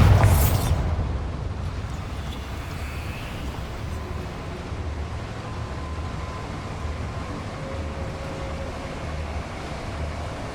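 A Bombarda explosion spell goes off in the Hogwarts Legacy video game. One loud blast hits at the start, then a low, rumbling roar lingers and fades slowly over about ten seconds.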